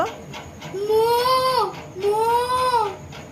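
A person's voice imitates a cow mooing, giving two drawn-out, wavering calls in a row, each lasting under a second, at close range.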